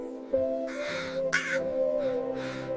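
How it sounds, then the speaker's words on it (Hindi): Crow cawing in a story setting, with a few harsh calls spaced over a couple of seconds against a steady tonal background drone. "एक कौवा अपनी जिंदगी से बहुत दुखी था।"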